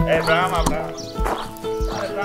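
A horse on a farm in an American village, with cows nearby, gives whinny-like calls and a few dull thumps that sit under close, steady talking.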